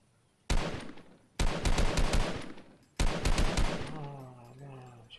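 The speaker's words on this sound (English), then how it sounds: "Oh no, I'm shooting your stuff." Gunfire in Fortnite, three rapid automatic bursts of closely spaced shots, loud and near, the last one trailing off into a ringing tone.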